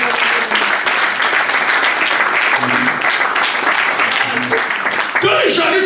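A church congregation claps loudly and steadily at a worship service, sustained applause filling the space with a few voices mixed in.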